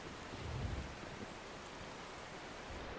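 In the storm-chasing video game Outbrk, hail pelts a vehicle with a steady, dense rattling hiss like heavy rain on metal, continuous and with no talking.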